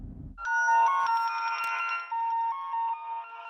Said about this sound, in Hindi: बड़े भैया, संध्या का फोन आया।